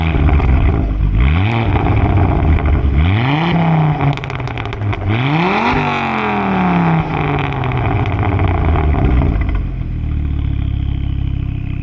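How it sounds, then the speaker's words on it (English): A Ford Focus XR5 Turbo with a 2.5-liter Volvo inline-five revs up hard several times, climbing and falling in pitch through gear changes, loud and close before settling to a steady idle. "I'll play a sound clip here for you guys of what the car currently sounds like."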